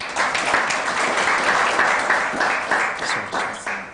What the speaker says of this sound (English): A round of applause again for our PS.